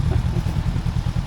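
A motorcycle engine runs loud and close in Thailand, a steady rough mid-pitched throb with a regular pulsing rhythm and no voices over it.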